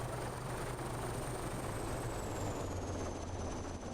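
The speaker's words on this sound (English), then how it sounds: "Oh god, that was a chopper" Steady, throbbing helicopter rotor drone in the 2001 video game Operation Flashpoint, with a low beating pulse and a faint high whine, continuous and fairly close, no talking.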